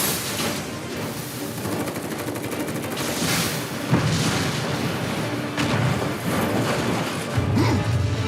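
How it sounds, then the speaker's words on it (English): An explosion in a remade video game sets off a dense, loud barrage of crashes, booms and rattling blasts that runs continuously with repeated heavy impacts. "the explosion went off a lot sooner than it did in the original"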